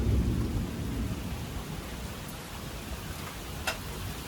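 Heavy rain pours steadily through a thunderstorm with flash flood warnings, a deep rumble of thunder rolling at the start and fading into the constant hiss of rainfall, with a brief sharp crackle near the end.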